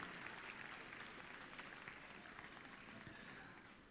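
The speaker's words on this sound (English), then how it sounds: "Let us give them a round of applause." A crowd at the closing ceremony of the All Africa University Games applauds award winners, a quiet, distant and continuous spread of clapping that slowly fades toward the end.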